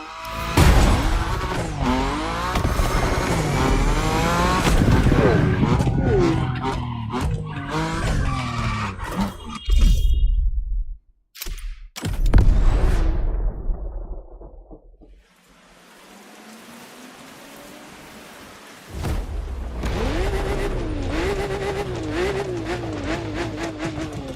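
Lamborghini Murcielago racing through curves in The Crew Motorfest: a loud revving engine with rising and falling gear changes and squealing tires, a brief near-silent break, then engine drone resuming.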